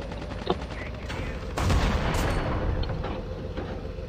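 Bursts of gunfire and booming shots in a multiplayer shooter match, several sharp reports then a louder sustained volley over background game noise, with a voice speaking briefly.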